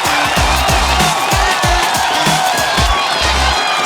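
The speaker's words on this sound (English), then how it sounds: "a little bit more applause." A large audience at a global immunization assembly cheers loudly, with whoops and raised voices filling the room in a dense, continuous roar.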